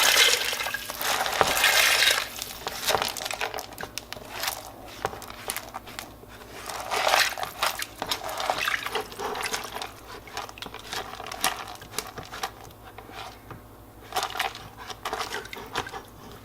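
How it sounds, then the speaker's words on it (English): Dried 15-bean soup mix is tipped into a pot in scattered bursts of clattering and rattling, with quieter stretches between pours and a few stray beans knocking around near the end. "Carefully add our beans, or should I say our legumes."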